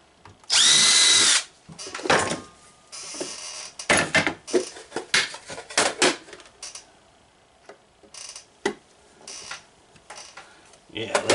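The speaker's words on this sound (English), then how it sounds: "I think I'm going to go one more size bigger for drilling those." A power drill bores 1/8 inch holes in a box, one short loud whining burst near the start, followed by scattered clicks, handling knocks and brief talk.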